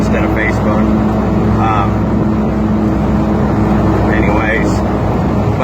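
The six-cylinder engine of a 1978 Jeep Renegade runs steadily at idle, a constant low rumble filling the whole stretch, with faint voices briefly audible over it.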